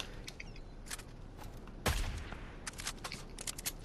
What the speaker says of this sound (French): Oh, ça tire là-bas.